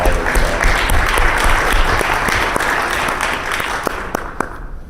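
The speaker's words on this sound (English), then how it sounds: "I think we should give a round of applause to the college and all their staff" A crowd at a public forum in St. Louis applauds the college and its staff, a loud sustained wash of clapping that gradually thins and fades toward the end.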